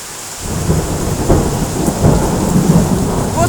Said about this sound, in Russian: Вот у нас ливень пошел.